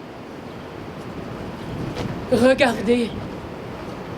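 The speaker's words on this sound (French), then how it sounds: "il y a beaucoup de vent aujourd'hui" Strong wind blows outdoors at a street theatre performance, a steady gusty rush throughout, while a voice speaks briefly over it near the middle.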